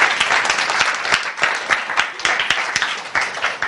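A classroom group claps after a student design-team presentation, giving brisk, fairly close applause that stays steady throughout.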